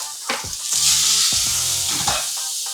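Tomatoes sizzle in a frying pan on the stove, a steady bright hiss that swells and crackles with a few soft stirring clicks and scrapes, close and alone without talk.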